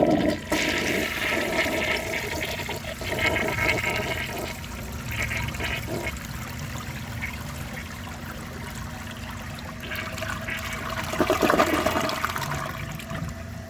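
A 1975 Kohler Highline toilet flushes down a washcloth and a grocery bag, a loud, sustained rush of swirling water that churns on for over ten seconds and surges again near the end, with no talking.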